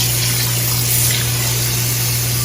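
A drain pump on a salon chair runs with a steady electric hum as water flows and gushes through its hoses in a continuous, even rush.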